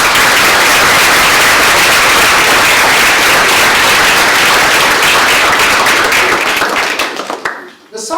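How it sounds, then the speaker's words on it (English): Loud, sustained applause from a crowd at a graduation hooding ceremony, a dense wash of many hands clapping that holds steady and then tapers off at the end. "I think we better give a round of applause to the family and friends, right?"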